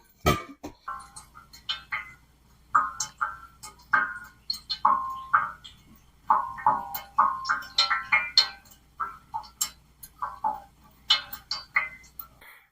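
Drops fall one after another in an uneven patter, small clear plinks of water dripping through a PROPUR gravity-fed filter into water, close by and quiet, with no voices.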